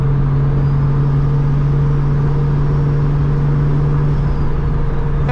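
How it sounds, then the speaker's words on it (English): The turbo of a 2JZ-GTE engine swapped into a Nissan 300ZX project car while cruising with the window down, a steady whirring whine riding over a loud, constant engine drone. "It's always nice to roll the passenger window down with the turbo being on that side. You can just hear it, even just driving, cruising."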